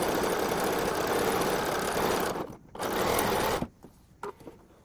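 A sewing machine stitching a narrow hem on a shirt runs in a loud, continuous whir. It stops briefly, runs again, then cuts off, leaving a few faint handling clicks.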